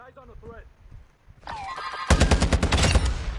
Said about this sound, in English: Got a long shot finally.